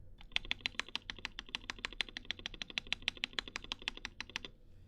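Rapid, even keystrokes on a KBD67 Lite mechanical keyboard with Durock V2 switches, a close, crisp run of about two dozen clacky presses at a steady pace, then stopping.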